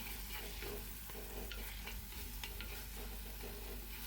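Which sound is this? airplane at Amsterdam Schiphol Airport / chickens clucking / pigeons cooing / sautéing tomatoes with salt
sautéing tomatoes with salt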